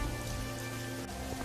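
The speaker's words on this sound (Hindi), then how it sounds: "लेकिन बारिश थी कि रुकने का नाम तक नहीं ले रही थी।" Heavy rain pouring down in a dense, steady hiss of drops striking surfaces, loud and continuous with no voices.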